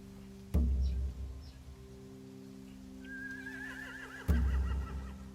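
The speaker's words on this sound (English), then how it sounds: "They have horses." Horses in The Walking Dead: The Final Season video game, with two heavy low thumps followed by a high, wavering whinny near the end over a quiet droning game background.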